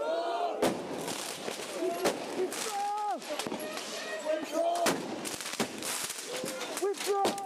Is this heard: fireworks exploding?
yes